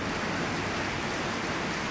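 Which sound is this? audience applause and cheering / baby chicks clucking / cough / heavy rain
heavy rain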